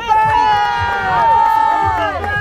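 A crowd at the Foulées 2025 running race cheers and shouts loudly for a runner finishing fourth, with lively overlapping voices close by.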